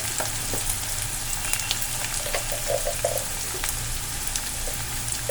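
Paneer and peas fry in a pan over medium heat, a steady close sizzle and crackle with soft scraping as they are stirred; no talking.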